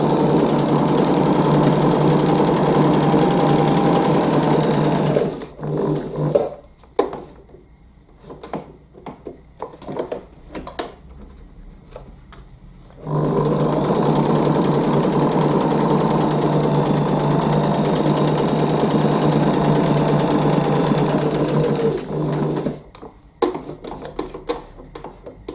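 Domestic sewing machine stitching fabric for lavender bags, a steady close whirring run that breaks off for several seconds of short stop-start bursts, then resumes a long continuous stretch before a few final pulses.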